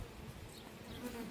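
Honeybees buzz steadily around an open beehive during an inspection, a continuous low hum with some nearby wingbeats rising and falling over the short stretch.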